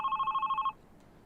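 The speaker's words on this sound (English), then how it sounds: "Do I gotta keep answering the phone calls?" A telephone rings in the horror video game Love, Sam, a rapid electronic bell trill buzzing loudly for under a second before cutting off into quiet room tone.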